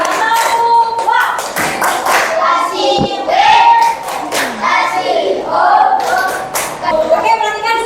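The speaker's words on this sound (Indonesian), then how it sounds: "Baik, kita kasih tepuk wah dulu untuk kelompok 1 ya." A school class performs the rhythmic 'tepuk wah' clapping chant for a group, sharp patterned hand claps and taps mixed with children's chanted voices, loud and close.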